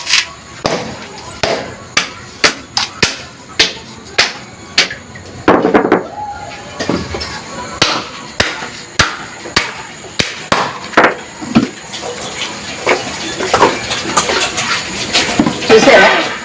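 A coconut being chopped into pieces at home for making coconut oil, with a long series of sharp, close chopping strikes landing roughly every half second and a voice briefly heard between them.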